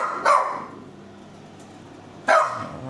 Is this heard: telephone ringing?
no